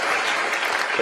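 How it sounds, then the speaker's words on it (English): Applause for Nicki Minaj after her speech at the UN, a dense steady wash of many hands clapping together, loud and continuous throughout the short burst. "1 second applause for Nicki Minaj for speaking at the UN"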